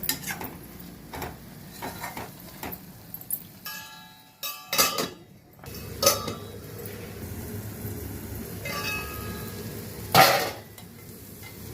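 A lid is set on a pot of simmering ridge gourd curry amid scraping stirs and light metallic clinks, with a louder, sharp clank of metal near the end; no one speaks.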